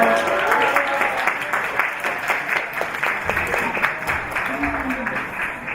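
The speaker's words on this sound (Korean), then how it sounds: "이 친구 나올 때 박수 쳐주세요." Audience applause in a church teaching session as a child helper comes forward, steady clapping from a nearby crowd with murmured voices mixed in throughout.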